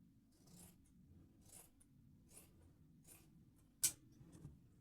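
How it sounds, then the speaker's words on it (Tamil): Scissors cut straight across blouse fabric near the neckline in a series of soft, faint snips at a steady pace, with one sharper, louder cut near the end and no talking. "நெக்கு டிஃப்ரெண்ட் பண்ணுறதுனால நான் இப்படி ஸ்ட்ரெயிட்டாக நெக்கு கிட்ட கட் பண்ணிக்கிறேன்"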